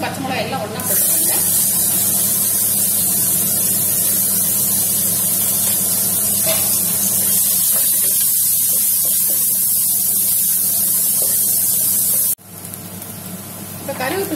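Onion, garlic and green chillies drop into hot oil with fennel seeds for a shark puttu dish and sizzle loudly and steadily in the pan for most of the stretch, then the hiss cuts off abruptly near the end.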